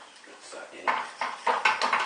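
A spoon stirs chicken curry in a pan, giving irregular scraping and clinking strokes, close and moderately loud, several in quick succession without talk.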